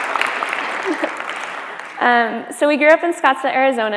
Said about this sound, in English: We can clap for him for coming all the way over here